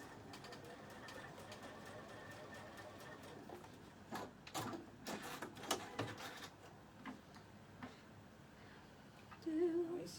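A sewing machine stitches quilt pieces for a sampler quilt with soft, steady running and a series of clicks and thumps midway, fairly quiet and close, with little talk.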